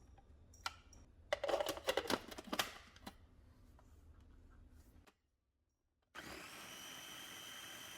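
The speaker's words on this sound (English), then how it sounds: "Now I'm only going to add 1 of my large avocados, and I'm just going to puree this well." A blender purees avocado with cooking oil, first in uneven clattering bursts, then a short pause, then a steady high whir at full speed.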